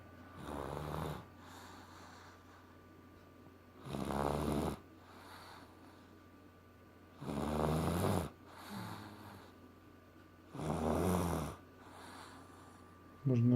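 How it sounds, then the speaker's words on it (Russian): A pet snores nearby in slow, regular rhythm, with four rasping inhalations spaced a few seconds apart and quiet breathing between them. "Половину урока Стефик у меня тут храпел под боком"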